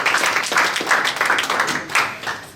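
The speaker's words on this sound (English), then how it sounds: "That was a rather tepid round of applause." Thin, uneven clapping from a small convention audience of young Democrats, a modest scattering of hands that rises and falls in loose pulses.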